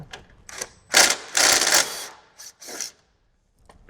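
Loosening and removing T40 bolts on a 2014+ Harley-Davidson motorcycle produces close, bursty ratcheting and scraping tool noises in several short runs with pauses between them.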